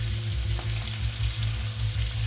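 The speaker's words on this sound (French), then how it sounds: "arroser la pièce de viande avec le beurre qui est vraiment chaud" Very hot butter spatters and crackles around a steak in a pan as it is basted, a dense close sizzle with a pulsing low rumble, no talk.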